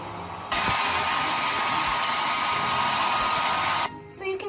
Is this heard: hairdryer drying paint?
yes